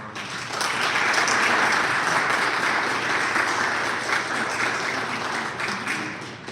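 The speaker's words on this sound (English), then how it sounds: "Big round of applause again for our" Sustained audience applause for a monologue performer at an actors' studio showcase, a dense wash of many hands clapping that swells quickly and holds steady, fading slightly toward the end.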